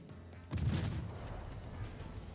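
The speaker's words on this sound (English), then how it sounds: "Gonna take one salvo up the butt from the Gneisenau" Naval gunfire from the battleship Gneisenau in a warship video game: a heavy booming salvo bursts in at once, then decays into a long rumbling wash of distant fire.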